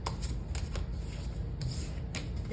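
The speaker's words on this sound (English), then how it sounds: "Give them a quick shuffle." A tarot deck riffles and flaps in quick, papery bursts, shuffled close up at a steady pace with no talking.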